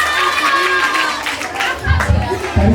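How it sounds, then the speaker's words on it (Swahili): A church congregation applauds a child who is about to recite a poem, with a burst of close crowd clapping mixed with chatter and a voice speaking over it, continuing throughout. "Mpige makofi, mpige makofi."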